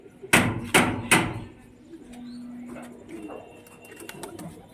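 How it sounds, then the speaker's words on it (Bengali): Pigeons land with three sharp wing claps in quick succession, followed by soft cooing and scattered light taps and flutters nearby. "অনেকগুলো পায়রা নিচে নেমে গেছে"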